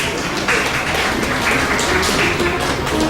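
Guests at a 21st birthday celebration clap together in a sustained, even patter of applause, fairly loud and continuous for a few seconds with faint background noise underneath.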